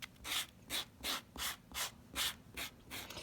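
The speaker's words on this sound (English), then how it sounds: "So I will just kind of do a light sand across all of my stamps here." Light sanding strokes across solid rubber stamps in one direction, a soft rhythmic rasp of about eight even back-and-forth passes, close and quiet.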